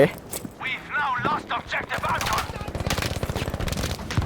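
Thompson M1928A1 submachine gun firing in Battlefield V, rapid automatic bursts building into sustained rattling fire, mixed with other game gunfire and effects, with a voice speaking over it.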